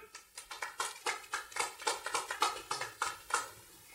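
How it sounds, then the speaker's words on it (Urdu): Scattered, fairly faint handclaps at an evening program honoring a guest chair, a small audience clapping in uneven bursts that fade out toward the end. "آپ کی تالیاں"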